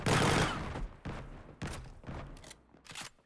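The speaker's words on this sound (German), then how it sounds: "Wir schießen also einmal" A burst-fire weapon in the Lyra sample game for Unreal Engine 5.4, with several loud crackling bursts of shots, a long one first and then four shorter volleys spaced about half a second apart.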